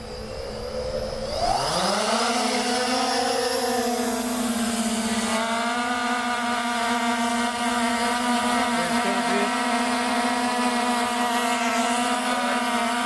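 A drone lifts off with a rising whine and then holds a steady, loud, high buzzing hum as it flies close by, with no talking heard.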